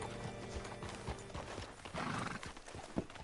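Steady horse hooves clopping at a walking pace in Red Dead Redemption 2, fairly close, with a brief whinny-like sound mixed into a dense game soundscape.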